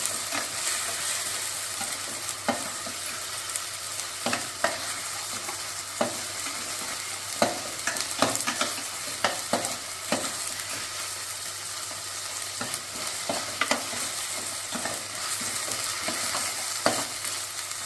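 Ginger garlic paste fries in hot oil in a pan, a constant sizzle broken by frequent sharp scrapes and clinks of a spoon stirring it, close up and steady, with no voices.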